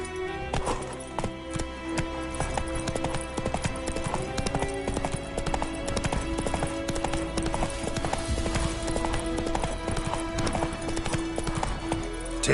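Roach the horse gallops in The Witcher 3, hooves beating in a fast, steady clip-clop rhythm that lasts throughout, close and prominent over game ambience.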